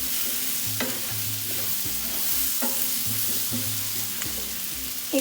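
Quince being stirred in oil and butter in a pan, steady sizzling frying with repeated scraping strokes of a utensil against the pan at a regular rhythm, close and clear.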